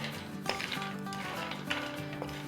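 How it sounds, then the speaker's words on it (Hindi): Nuts being stirred in a pan over a medium-low flame, with light scraping and clinks of a utensil against metal and a faint sizzle, steady and close. "मीडियम लो पे कर देते हैं चूल्हा और हिलाते हैं"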